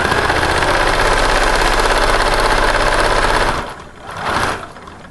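A sewing machine runs steadily while stitching a seam on a repurposed fabric organizer, a close, continuous mechanical whir that cuts off partway through, then a brief softer burst.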